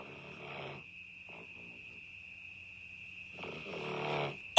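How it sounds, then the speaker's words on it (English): A dog snores in a few slow, rasping breaths, each drawn-out snore separated by quiet pauses, with a steady high whine running through the background. "And this was from Clarice snoring"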